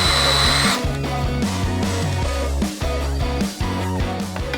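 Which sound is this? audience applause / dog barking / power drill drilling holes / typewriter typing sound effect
power drill drilling holes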